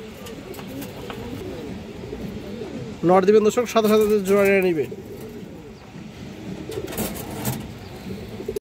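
Pigeons coo loudly and close at a pigeon market, a rolling burst of throaty calls midway, while someone talks steadily over the birds and faint traffic noise.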